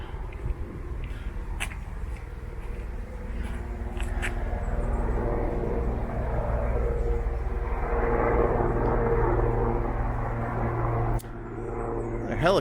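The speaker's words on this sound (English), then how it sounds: "A helicopter." A helicopter passes overhead in a Berlin city street, its engine and rotor roar swelling into a steady loud drone that lingers, with a voice speaking briefly over it.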